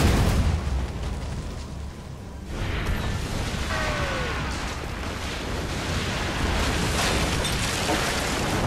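Ship cannons firing in a naval battle in Assassin's Creed Rogue Remastered, set in frozen waters: loud, dense booming and rumbling that rolls on continuously, close and heavy, with sea-like roar beneath and no clear speech.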